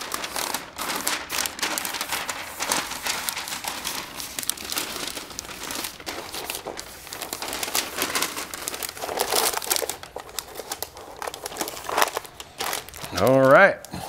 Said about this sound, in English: We're gonna fold that paper in like we're doing a crappy job wrapping a Christmas gift here.